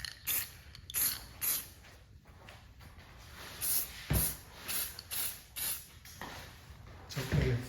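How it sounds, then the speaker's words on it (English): A spray can laying a light first coat of primer on a plastic model kit, heard as a series of short, close hissing bursts separated by brief pauses, with faint handling clicks between them. "First coat, light. So light spray."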